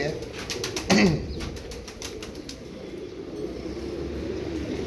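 Royal Teddy pigeons give a short, soft coo near the start against a background of outdoor ambience, with people talking over it.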